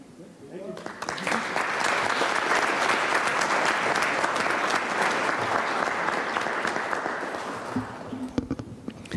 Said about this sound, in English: let's give our finalists a round of applause